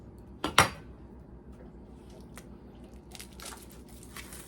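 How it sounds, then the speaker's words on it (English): A knife cuts through a cucumber with one sharp crunchy chop and then a second, followed by faint light clicks and scraping on a board in a quiet kitchen. "We're gonna cut up a cucumber real quick."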